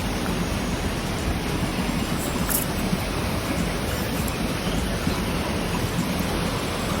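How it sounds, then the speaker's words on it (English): Loud, constant rushing water at a shoreline in Croatia, a dense broadband wash of surf that fills the whole stretch with no pauses and no talk. "just the loud sounds of the water on the camera now, it picked it up so well"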